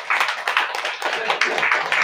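A church congregation claps hands together in a quick, steady rhythm of repeated sharp bursts, fairly loud and close, with no clear talking.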